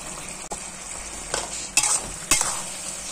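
Carrots are stirred in a frying pan with a little water while cooking a Thai-style paprik stir-fry: a steady close sizzle with three distinct scraping stir strokes near the end.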